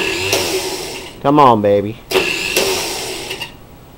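An engine is cranked by a starter motor that catches only intermittently on a flywheel with missing teeth, giving short loud whirring and grinding bursts between pauses, close by. Someone speaks briefly over it.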